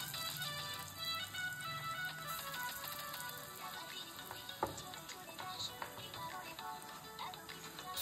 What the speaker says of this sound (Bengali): আর এদিকে আমার বড়াগুলো ভাজা চলছে।